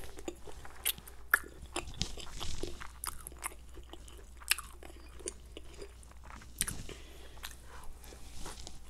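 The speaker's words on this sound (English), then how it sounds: "This kimchi is the perfect sour." Someone eats kimchi and Korean noodles up close, with quiet, irregular crunchy bites and soft wet chewing over a faint low hum, no talking.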